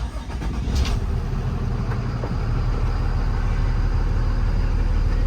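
A 2020 Kenworth T270 truck engine turning over and catching, then settling into a steady, loud rumbling idle close by.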